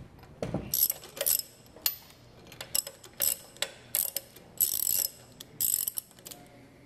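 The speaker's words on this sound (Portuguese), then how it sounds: "Retirando aqui o próximo parafuso." A screw being worked loose from a centrifugal pump's volute casing, a run of bright metallic ratcheting bursts in a regular rhythm, close and fairly loud, with no speech.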